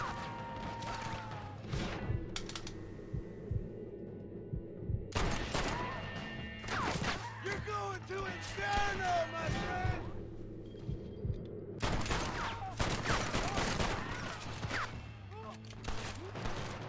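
Gunfire in the Western game Red Dead Redemption, with bursts of sharp shots and crashing impacts in two dense clusters over a low steady ambience, and soft speech now and then.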